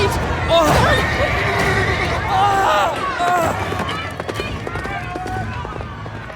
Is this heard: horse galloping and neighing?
yes